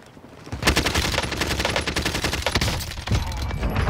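Sustained automatic gunfire in Call of Duty Warzone on Rebirth Island, a loud, dense rattle of rapid shots that barely pauses across the whole stretch, close and dominant with no voices over it.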